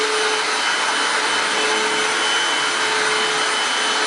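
Hoover Windtunnel Anniversary Edition self-propelled upright vacuum cleaner running steadily, a loud close whooshing roar with a faint whine and no breaks.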